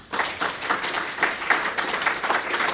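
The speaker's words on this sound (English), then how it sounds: "First, a round of applause." Audience applause fills the room after a talk at a professional software meeting, a dense, steady crackle of many hands clapping at fairly close range with no voices over it.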